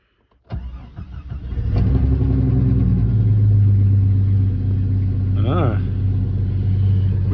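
A 1993 Jeep Cherokee with a newly replaced fuel pump cranks briefly, catches and settles into a loud, steady rumbling idle close by, with a short rev partway through.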